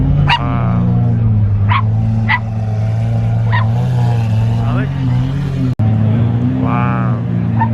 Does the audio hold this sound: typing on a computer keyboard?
no